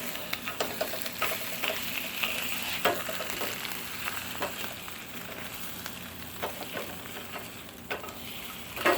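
Eggs for Tex-Mex migas frying and sizzling in oiled pan, a steady close crackle broken by scraping clicks of a spatula as they are stirred and flipped, no voices.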